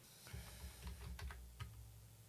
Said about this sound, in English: So if I just type Python